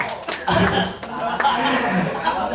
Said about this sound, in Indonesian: Tepuk tangan sekali lagi dong buat Mas Ganda